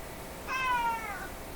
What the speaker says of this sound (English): it's not one cat. It's the other cat.